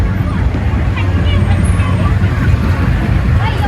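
Busy street traffic with a crowd during Cambodian New Year, a dense continuous roar of engines and vehicles mixed with loud crowd babble, constant and close.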